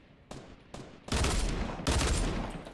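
Pistol shots from a gunslinger revolver in the video game Fortnite Battle Royale: two sharp, close shots followed by two heavier, longer blasts, loud and alone with no talking.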